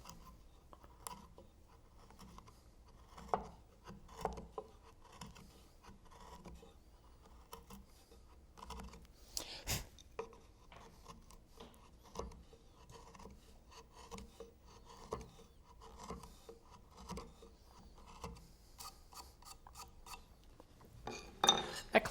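A chisel pares wood, pivoting off its bevel, while shaping a wooden garden finial in a workshop, giving faint, scattered scraping and shaving clicks with short pauses in a quiet room.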